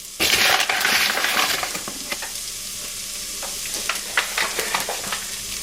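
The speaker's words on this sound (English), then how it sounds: "I'm just going to keep stirring it because we don't want the garlic to burn" Garlic sizzles in a pan while being stirred, with a loud crackling burst at first that settles into a softer steady fry punctuated by scraping utensil clicks.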